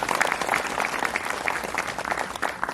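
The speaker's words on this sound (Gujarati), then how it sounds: "એમના માટે પણ જોરદાર તાળી પાડી" A crowd at an Easter celebration in Pimpari, Dang, claps steadily and fairly loudly for a few seconds, a dense patter of many hands with no pause.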